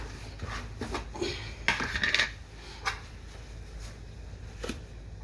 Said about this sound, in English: Let me grab another spoon I've already rinsed over here.